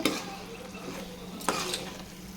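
Mushrooms and ground masala sautéed in a pan for mushroom biryani, a soft sizzle under a few scraping stirs and a sharp utensil knock near the end, quiet and close.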